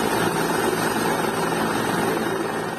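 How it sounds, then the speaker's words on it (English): Helicopter evacuating ruling party members from a stadium, its rotor throbbing loud and close in a steady continuous drone with a low engine rumble, no voices. "Dramatic images of chopper reportedly evacuating members of ruling party from a"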